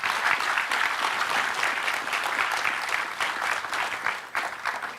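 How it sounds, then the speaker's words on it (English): An audience applauds Professor Danny Kwa at a lecture, a full, even burst of many people clapping that holds steadily for about five seconds with no voices over it. "So a round of applause for Danny."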